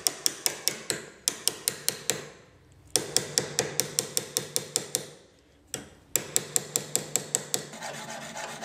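Small hammer blows on copper fittings set into a seax knife handle, a close, crisp run of evenly spaced taps in three quick series separated by short pauses.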